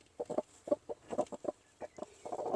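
Brooding Cochin hens cluck softly and close up in short, irregular bursts of low murmuring calls, some overlapping, in a quiet coop.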